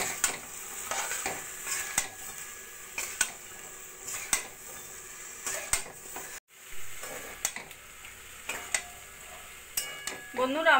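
Cauliflower frying in a pan with salt, turmeric and chilli powder while a utensil stirs it, giving steady sizzling under repeated scraping and clinking strokes, with no voices.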